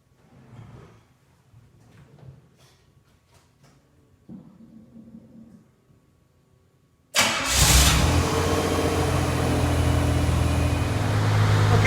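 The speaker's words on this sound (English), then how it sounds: "So now we're going to go ahead and start it up and make sure that all the fluids are good" Lamborghini Countach replica in a garage during restoration: quiet clinks and shuffling, then the engine cranks and catches with a sudden loud burst and settles into a steady, loud idle.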